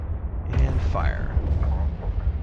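Spaceship weapons firing during space combat in the EVE Online video game: low, rumbling blasts under a thin sweeping zap, close and fairly loud.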